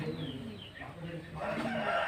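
Chickens and a rooster at a Gudimellanka poultry yard, with clucking and a crowing rooster mixed into steady background noise, while someone talks over the birds.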